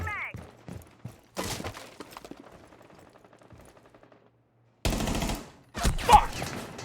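Rainbow Six video game gunfire: a few sharp shots and short bursts spaced irregularly, with quieter mechanical clicks between and loud dense clusters near the end; a voice talks briefly early on.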